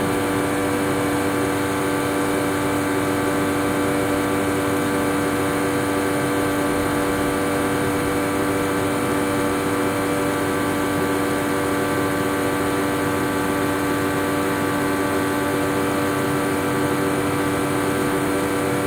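A Nesco Professional coffee roaster runs in cooling mode with its fan and bean auger going, giving a loud, steady, unbroken mechanical hum and whir with no talk.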